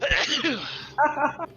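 A single sharp sneeze bursts out near the start, followed by people talking during a tabletop role-playing game session.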